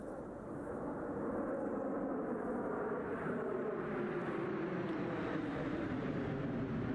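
A Polish Air Force jet in service since 1964 flies a display. A loud, continuous engine roar swells and shifts in pitch as it passes.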